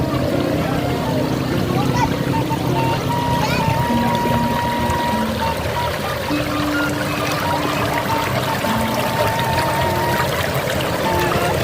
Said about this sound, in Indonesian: Tuh, airnya mengalir, sawahnya masih hijau